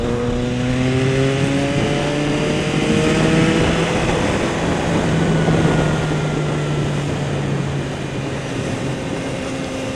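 Continuous engine drone from a Yamaha XSR900 motorcycle on a road ride, a steady loud hum with a gently shifting pitch and broad wind rush, no voices.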